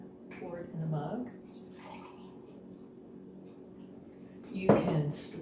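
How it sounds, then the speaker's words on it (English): Orange peel tea being poured into a mug gives a soft liquid trickle and splash near the start and a louder splash near the end, close by, with quiet clinks and room noise between. "you can go ahead and pour it in a mug"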